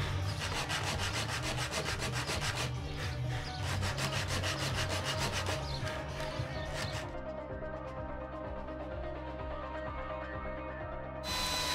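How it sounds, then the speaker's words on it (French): Wood is hand-sanded with 120-grit sandpaper while a clock is being built: quiet, close, rhythmic scratchy strokes repeat steadily, thin out partway through, then return briefly at the end. "je peux tout poncer au grain 120"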